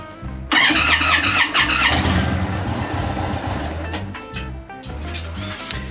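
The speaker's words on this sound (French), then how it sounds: "on fait rouler la moto pendant 3 minutes" An Indian Chief Thunderstroke motorcycle engine starts with a loud burst and settles into a close, rattly idle that runs on steadily.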